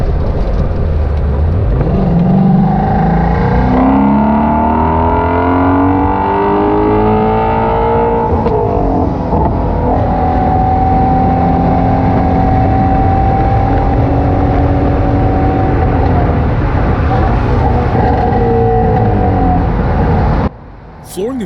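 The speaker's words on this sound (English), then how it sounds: "the noise coming from the vehicle was absolutely brutal" Shelby GT350 V8 engine cruising around the city in third gear at about 40, a loud, rumbling drone with rising and falling revs and steady road noise throughout, ending with a brief drop near the end.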